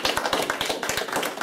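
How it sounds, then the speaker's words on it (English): Audience at a primary school debate applauding, with dense, rapid hand claps that run steadily and close for the whole stretch, with no talk. "So look, round of applause again for these guys,"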